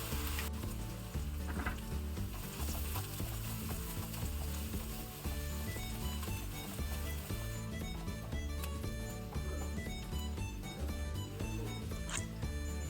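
Chopped onions frying in a pan with spices for a South Indian mushroom kizhi paratha filling, a dense continuous sizzle with clicking and scraping of stirring, close and loud throughout.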